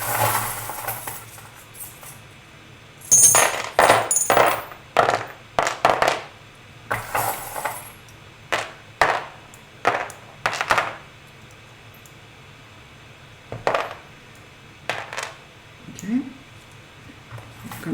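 Small metal charms are mixed together by hand, clinking and tapping in a quick scattered cluster of light clicks, then a few isolated taps, under a soft-spoken voice.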